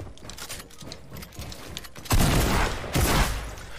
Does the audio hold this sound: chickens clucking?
no